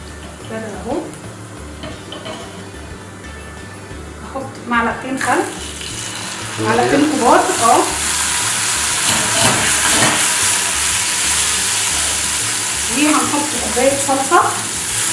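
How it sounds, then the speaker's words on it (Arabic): Garlic frying in a pan as vinegar and tomato sauce are added, a sharp sizzle and hiss that jumps louder after a few seconds, with intermittent stirring and clattering close by. "احط الخل واحط الصلصه على طول"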